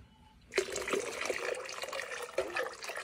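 Warm water pours steadily from a tap for a bath inside a camper van, starting abruptly after a brief quiet moment and then running on without a break, close by, with no voices.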